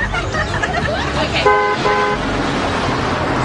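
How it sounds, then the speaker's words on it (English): A car horn honks twice in quick succession, loud and nearby, over a steady hum of background room noise. "Is that honking for you, Miss Lindstrom?"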